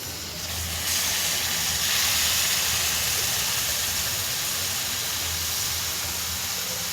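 Yogurt hits roasted chilies in a hot pan, setting off a loud burst of steamy hissing sizzle that swells after the first second and holds steady, close and continuous.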